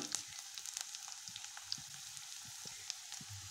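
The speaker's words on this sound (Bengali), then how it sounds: "তারপর কাঁচা লঙ্কা পেঁয়াজ তেজপাতা দিয়ে দিচ্ছি, আরও বাকি একটু তেল দিয়ে দিচ্ছি" Green chillies, onion and bay leaves sizzle quietly in hot oil for a fish kalia, a soft steady crackle with occasional sharper pops, faint and close, with no talking.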